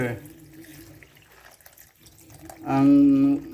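Water pours into a pan of veggie bihon cooking with oyster sauce, a short loud splashing run near the end after quieter kitchen sounds, close up.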